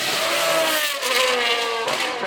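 A V10 race car engine screams past at the Goodwood Festival of Speed, its high pitch sliding down in a clear Doppler drop, with a brief upshift-like break near the end.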